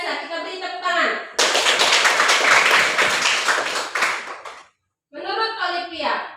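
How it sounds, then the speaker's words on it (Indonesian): Children clap their hands together in a classroom-style religious lesson, a burst of brisk clapping lasting about three seconds, with a voice speaking before and after it. "Kita beri tepuk tangan."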